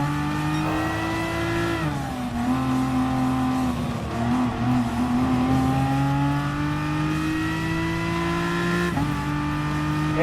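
Race cars lapping in Gran Turismo Sport, closing on BMW M6 competitors: loud, close engine drone with steady rising and falling pitch through gear changes and lifts, under a continuous wash of tyre and road noise.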